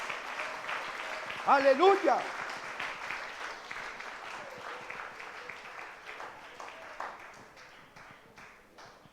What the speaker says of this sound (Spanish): Denle un aplauso fuerte a Dios por eso.